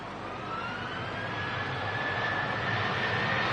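A KLM airliner in SkyTeam livery passes overhead, a steady, sustained jet roar with a slowly gliding engine whine, fairly loud and alone with no voices.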